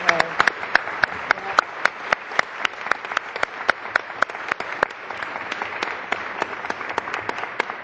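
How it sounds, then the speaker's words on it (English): An audience at a congressional hearing breaks into steady applause, a dense crowd of claps with sharp individual slaps throughout, lasting several seconds while voices murmur underneath. "How about a round of applause"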